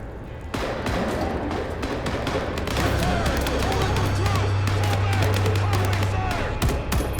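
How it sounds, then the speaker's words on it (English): Sharp bangs of gunfire in the video game Vampire: The Masquerade – Bloodlines 2 crack repeatedly at irregular intervals over a low droning hum and faint background activity. "Gunfire?"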